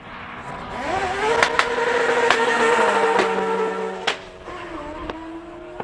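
A Mazda RX-7 race car at a classic car meet in Cape Town roars past loudly, its rotary engine note climbing and dropping through gear changes with sharp crackles, close and unaccompanied by talk.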